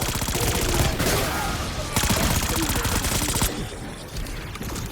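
Rapid automatic fire from the Saug SMG in Black Ops 6 Zombies, loud sustained bursts with brief gaps, continuous close gunfire filling the whole stretch.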